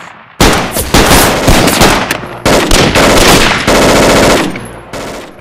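Rapid bursts of gunfire from the Army Men video game, several loud, dense volleys of automatic fire separated by brief gaps, close and dominant with no talk over them.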